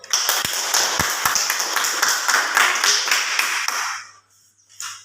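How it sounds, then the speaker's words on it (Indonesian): Classroom applause for a student group after a presentation: a burst of hand clapping with a few sharp individual claps, stopping abruptly near the end before a brief final clap. "mari kita berikan tepuk tangan untuk kelompok 1"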